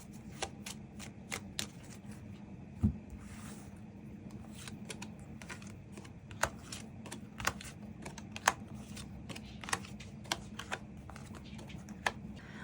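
Tarot cards being shuffled in the hands: a steady riffling rustle with repeated sharp card snaps and taps scattered throughout, close and fairly quiet, no voices.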